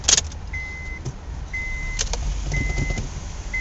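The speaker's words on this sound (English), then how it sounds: "let me put the car on" A car inside being switched on, giving a short clunk and then three or four evenly spaced electronic chime tones over a low steady engine hum.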